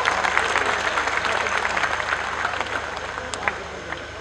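A crowd at a BSP political rally in Jalandhar, Punjab claps in a sustained burst of applause, with scattered sharper claps standing out over the dense wash.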